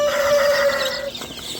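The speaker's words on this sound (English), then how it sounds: "I'm gonna start grabbing these guineas out of here and put these guineas over there with their other guinea friends" Guinea fowl being caught and moved on a homestead: a sustained shrill bird call holds for about a second, then breaks into fainter scattered squawks and rustling, with no talking.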